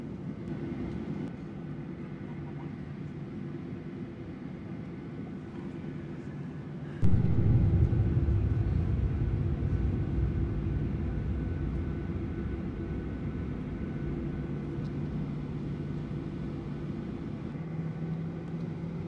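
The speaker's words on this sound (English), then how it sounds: "Now we're using runway 25 to take off, which is the shortest of Sydney's 3 runways." Virgin Australia Boeing 737-800 on the runway at Sydney Airport, its steady cabin rumble stepping up sharply as engines spool up for the takeoff roll, then holding a loud continuous roar.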